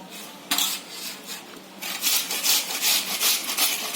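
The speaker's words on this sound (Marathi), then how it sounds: "असं किसणीवर किसून घ्यायचं." Peeled potatoes are rubbed on a hand grater in quick, repeated rasping strokes, close and fairly loud, starting after a short pause and continuing rhythmically with no talking.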